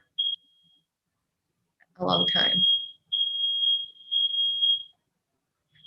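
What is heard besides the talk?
smoke alarm beeping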